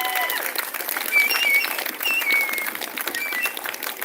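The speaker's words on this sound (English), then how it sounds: "Can we give them a round of applause" Crowd applause at an outdoor freedom rally in a Canberra park, steady scattered clapping with a few whistles, moderately loud and fairly distant, lasting throughout with faint voices mixed in.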